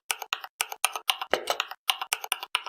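Typing on a computer keyboard to search for the Microsoft Store on Windows, a quick run of about a dozen crisp, evenly spaced keystrokes, close and clear with no talking.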